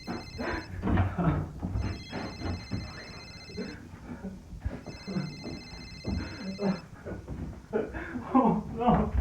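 A telephone rings in three electronic trilling bursts, each about two seconds long with gaps between, over scuffling, movement noise and people talking.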